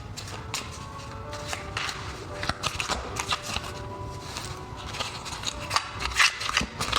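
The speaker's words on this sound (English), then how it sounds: "I'm going to shuffle and get 4 cards for you." A deck of tarot cards is shuffled by hand, giving repeated crisp riffling and snapping bursts in an irregular rhythm, close and clear with no speech over it.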